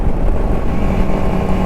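Superbike exhaust while riding on a highway, a steady, loud rumbling roar mixed with heavy wind buffeting, continuous and close throughout with no talk.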